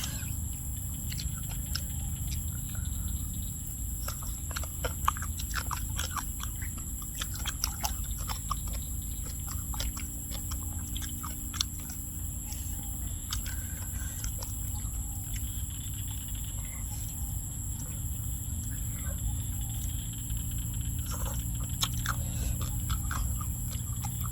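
Someone chewing a fertilized duck egg, crunching repeatedly in a steady run of close, crisp bites for a long stretch, with birds chirping faintly in the background.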